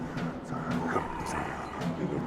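Guttural, growling chant in a video game soundtrack, like an angry dog, heard as a few rough voiced bursts over a steady, tense musical bed with some murmuring voice mixed in.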